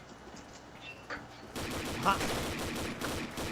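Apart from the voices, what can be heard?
gunfire in the video game Combat Arms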